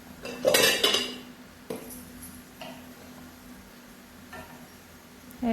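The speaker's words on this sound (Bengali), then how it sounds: "এখন ঢাকনা দিয়ে দেব" A lid set onto a wok of paneer curry: a loud metallic clatter and clink at the start, followed by a few softer taps and knocks spaced apart, then another clank at the end, close and without talk.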